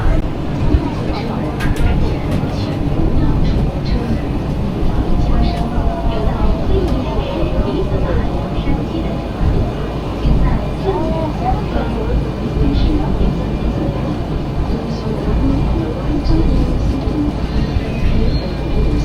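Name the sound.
metro train ride interior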